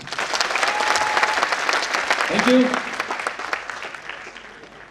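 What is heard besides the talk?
audience applause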